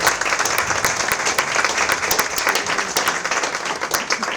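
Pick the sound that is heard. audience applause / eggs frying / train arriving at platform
audience applause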